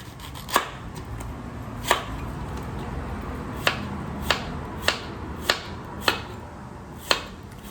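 Bamboo shoots being chopped for pickling with a knife, about eight sharp, irregularly spaced chops standing out clearly over a low background hum.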